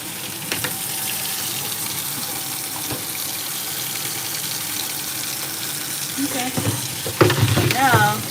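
Asian noodles and frozen mixed vegetables sizzle and fry in a pan while being stirred, a steady close hiss with scraping and rattling of the stir, then a tap runs and dishes clatter near the end.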